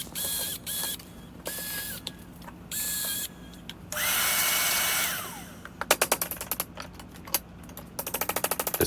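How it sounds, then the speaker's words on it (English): A power drill buzzes in several short bursts, then a longer grinding run as it bores out an old wooden wedge in an axe head, followed by rapid clicking ratchet-like ticks. "I'm just going to get the drill bit and drill out that old wedge"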